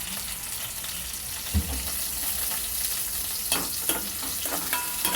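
Dried prawns fry in about four spoons of hot oil, a constant crackling sizzle broken by a few soft stirring knocks toward the end.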